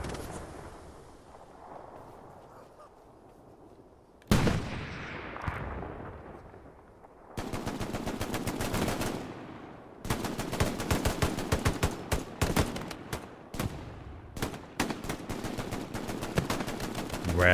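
Gunfire and machine-gun fire in a multiplayer console war shooter game. A single loud crack rings out and decays, then long automatic bursts follow, with sharp repeated shots and no voices.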